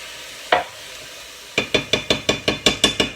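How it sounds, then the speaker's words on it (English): A spoon stirs curry into vegetables in a pan, with a single knock and then a steady series of about ten sharp, evenly spaced metallic taps close by, no voices. "I'm just stirring that into the veggies now"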